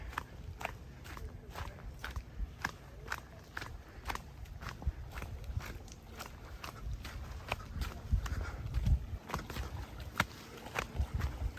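Footsteps crunch down a small trail from a campsite toward a pebble beach at Cave Run Lake, a steady walking rhythm of close, fairly quiet steps over a low outdoor background.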